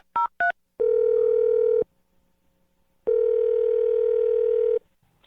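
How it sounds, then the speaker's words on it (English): Telephone number being dialed: two quick dialing tones, then a steady dial tone that stops, pauses, and sounds again for a longer stretch, clear and close with no talk. "dial her phone number right now"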